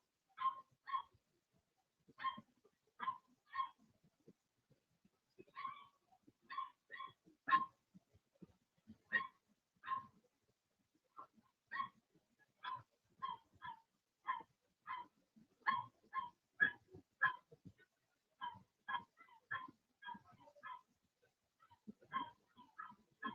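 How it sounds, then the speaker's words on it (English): A dog whimpering, yipping and barking in short repeated bursts, irregular and fairly close, with quiet gaps between calls and no talking. "Sounds like a dog I know."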